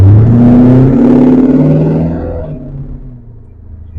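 Naturally aspirated Lincoln Mark VIII engine revving hard, its loud low rumble climbing through first gear then dropping as the automatic shifts into second, with no B&M shift kit fitted, fading to a steady lower drone.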